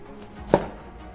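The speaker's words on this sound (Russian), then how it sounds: "Также нарезаем кусочками хлеб." A single sharp knife chop cuts through bread, one brief crunchy strike against a quiet background.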